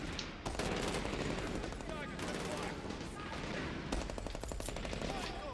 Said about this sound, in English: Still getting shot from somewhere.